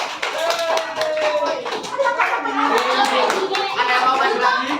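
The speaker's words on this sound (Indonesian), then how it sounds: "Tepuk tangan untuk Haikal." Classroom of fifth-grade children clapping for a classmate, a busy patter of small hands mixed with kids' voices and chatter throughout.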